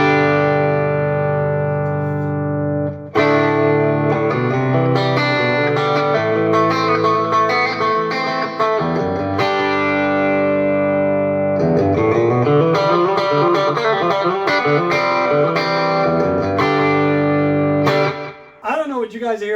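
A Univox mini Strat electric guitar plays through the bridge pickup into a Fender Twin clean setting at full volume and full tone, giving a bright, sustained run of chords and notes. It is loud and close, with a brief pause near the start and a fade at the end.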